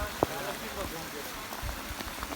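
Rain falls steadily on a mountainside during an environmental clean-up hike in Kurdistan, a close, even patter with a brief sharp knock near the start, with no voices.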